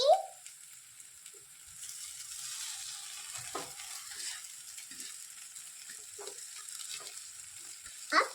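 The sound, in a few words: stirring and mixing masala noodles in a frying pan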